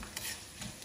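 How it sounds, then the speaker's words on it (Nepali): Buff sukuti, dried buffalo meat, frying in a pan over medium heat, giving a brief close sizzle with a couple of stirring scrapes and no speech. "सो हामी चाहिँ यसलाई एकछिन बेरसम्म एकछिन यसलाई फ्राई गर्नुपर्छ"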